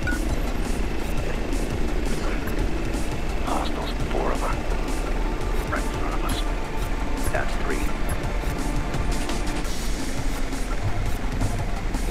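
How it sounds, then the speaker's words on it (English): A drone in the tactical shooter Ghost Recon Breakpoint hums with a steady, buzzing rotor drone throughout, mixed with game ambience and voices talking over it. "Drone deployed."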